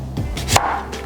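A knife cuts through a large sweet potato on a chopping board, giving two or three dull, close thuds with a short crunchy split between them.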